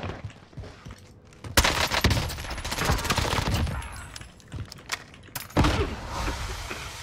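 Sharp gunfire bursts from an AS VAL rifle crack out in rapid succession with loud individual shots, over a busy, noisy game-like background with scattered clatter.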